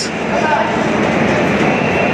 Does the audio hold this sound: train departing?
yes